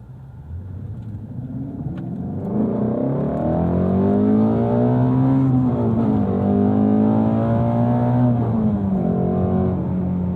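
A 2018 Ford Mustang Shelby GT350 V8 revs up loud and close, its tone climbing and sweeping through several rises toward an 8,200 RPM redline, steady and sustained with no talking.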